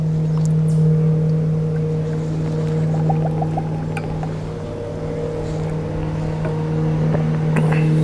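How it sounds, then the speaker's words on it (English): Motorboat running on a nearby lake, a steady low engine drone heard at a distance, continuous and moderately faint outdoors. "Somebody on their boat, I can hear."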